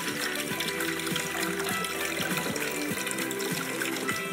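Water pours steadily into a glass, a bright continuous splashing flow with a faint rhythmic pulse beneath it, close and fairly loud.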